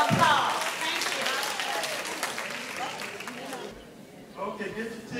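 An audience applauds volunteers at a parish Council on Aging Christmas party, clapping that fades out with a speaker's voice over it.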